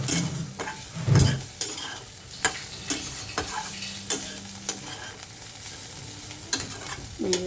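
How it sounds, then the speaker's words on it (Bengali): Bitter gourd and potato slices fry in a pan with a steady low sizzle, broken by repeated scraping clacks of a spatula stirring them, close and fairly loud, with no talk. "এই যে রান্না হচ্ছে উচ্ছে আলু ভাজা"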